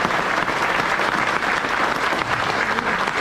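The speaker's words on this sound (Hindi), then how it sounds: "मैं चाहूंगा कि एक बार जोरदार तालियां हो जाए।" A crowd at an RCM gathering claps loudly and steadily, a dense, continuous wash of applause with no pauses.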